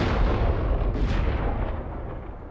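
Thunder and lightning in the Star Wars Battlefront 2 video game roll out as heavy, rumbling booms, with one sharper crack partway through, loud and close before fading slightly.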